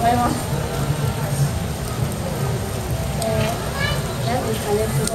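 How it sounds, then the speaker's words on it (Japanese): Rain falling at an outdoor street music festival in front of a city building, a steady loud hiss of rain hitting surfaces with scattered drips, continuous through the whole stretch. "この雨は何なんですかね。"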